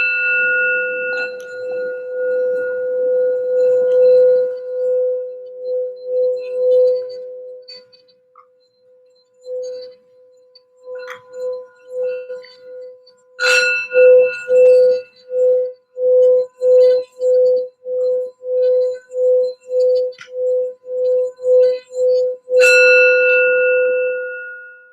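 A small metal bell rings for grounding before a tarot reading, first with a lingering resonant tone, then shaken in a steady rapid series of bright strikes, ending with one final ring.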